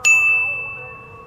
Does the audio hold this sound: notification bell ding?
yes